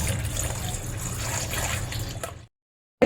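Water is poured steadily into a spiced pani puri mixture, a continuous close splashing trickle that runs for about two and a half seconds before cutting off abruptly.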